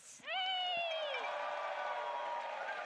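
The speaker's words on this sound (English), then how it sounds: "let's give one more ginormous round of applause for our guests" Convention audience at an anime expo panel cheers and applauds its guests, a sharp whoop rising over a loud, sustained wash of crowd clapping and noise.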